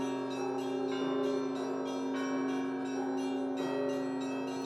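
Large tower bells of Lowell, the heaviest about 50 kilos, ring in a steady rhythmic peal with overlapping sustained tones, moderately loud and with no talking.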